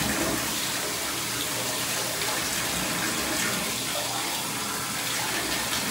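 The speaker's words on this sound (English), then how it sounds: "Keep pouring on your head." Child pouring water over their head in a bath, a continuous loud splashing and pouring wash that runs close and unbroken throughout.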